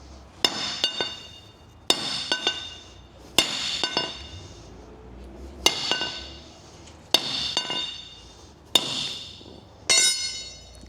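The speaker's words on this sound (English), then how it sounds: "Hit with a buckle." A metal belt buckle strikes a leather product in a durability test, six sharp metallic impacts spaced about every 1.5 seconds, each a bright clanking hit with brief ringing, close and loud with no speech.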